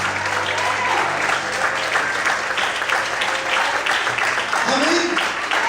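A church congregation applauds in one steady, dense wash of clapping that holds for several seconds, with some voices mixed into the crowd.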